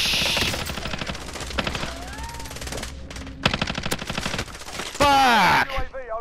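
Rapid, loud bursts of M13 rifle fire in Call of Duty Warzone on Rebirth Island, repeated volleys crackling close by with brief pauses between strings of shots.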